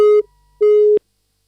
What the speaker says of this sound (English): I think that line is dropped.